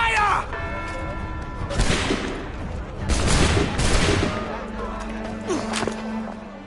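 A musket volley in Assassin's Creed 3 cracks out as a dense burst of overlapping shots, followed by scattered reports and rumbling battle noise while voices speak over the din.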